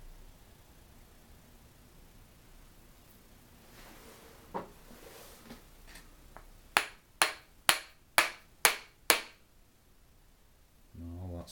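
Hammer blows knocking the left-hand casing off a Draper GM125 bench grinder: six sharp, evenly spaced metallic strikes close up, preceded by a couple of lighter taps and handling noises in a quiet workshop.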